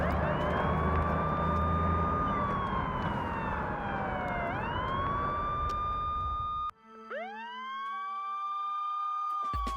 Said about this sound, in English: the terrible loop job on this ambulance siren that they do from scene to scene here